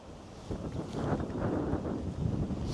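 Wind gusts roar and buffet the microphone in a continuous rumbling rush that swells louder partway through, on the coast of Crete.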